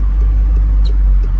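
A satin black McLaren 720S with a 710–720 horsepower engine runs from inside the cabin. It gives a loud, steady low rumble that swells slightly across a brief moment, with no voices over it.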